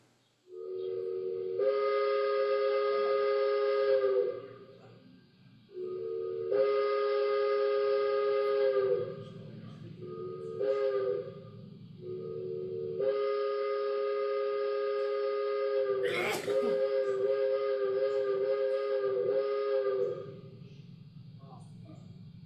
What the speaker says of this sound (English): That would be called a three-chime round top in steam whistle terminology.